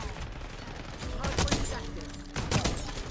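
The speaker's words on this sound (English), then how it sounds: "Shotgun with the Omni." Shotgun blasts in the Black Ops 6 beta, fired with the Omni: a few loud, sharp reports in a busy in-game mix of gunfire and effects.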